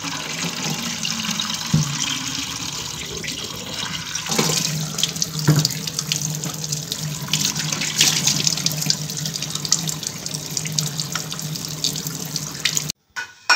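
Hot water runs from a tap into two bottles, a continuous splashing gush with a few knocks and clinks of the bottles, then a sudden cut-off near the end.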